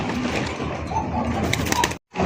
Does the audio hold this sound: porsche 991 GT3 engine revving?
no